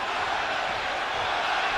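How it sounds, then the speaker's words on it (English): A lively crowd roars in a boxing arena, a dense, steady wash of massed voices at close range with no breaks. "Crowd is lively."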